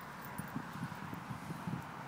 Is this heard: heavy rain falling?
no